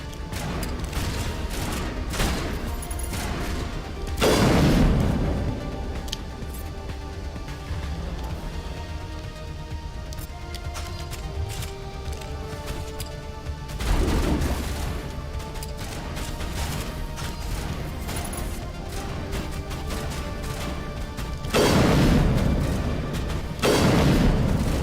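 Shotgun blasts in Mass Effect Legendary Edition, three heavy booming shots spaced several seconds apart over a constant bed of game noise and rumble.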